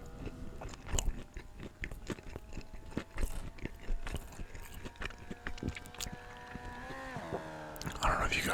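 Domino's pizza crust is chewed up close, with crisp crunchy bites and wet mouth sounds repeating irregularly alongside soft whispering.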